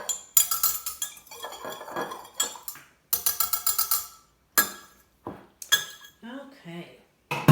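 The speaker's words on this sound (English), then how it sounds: "And then I'm gonna stir that up a little bit." A spoon stirs food coloring into boiling hot water in a bowl, clinking against the dish in repeated quick bursts with short pauses, while a voice talks between the strokes.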